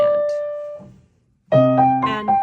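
Piano plays a brief ornamented figure from C.P.E. Bach's Solfeggietto, a few quick notes, a short pause, then a cluster of fast notes, close and clear with no talking.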